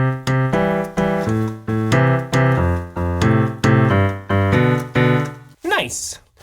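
A piano plays a pattern smoothly and continuously, with a steady chain of chords and no gaps, ending in a short rising sweep.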